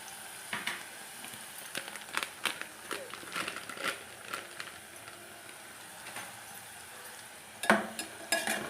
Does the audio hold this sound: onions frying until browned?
yes